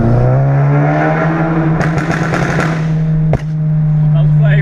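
Modified 350bhp Volkswagen Golf GTI accelerating, its engine tone climbing steadily as the exhaust crackles and spits, with one sharp loud bang near the end as it throws a flame.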